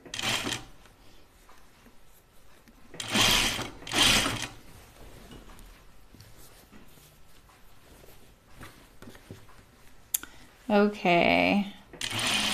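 A sewing machine stitching striped fabric runs in two short bursts, one early and one near the end, separated by stretches of someone talking over quiet handling sounds.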